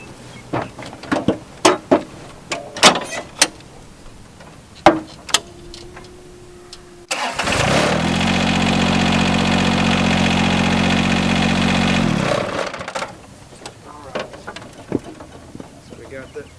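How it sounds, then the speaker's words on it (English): Ride-on mower tractor engine running steadily for several seconds as the mower deck lifts, a close droning hum framed by sharp clicks and clanks of handling before and after. "hop back on the tractor, raise up the deck so these lift arms go up all the way"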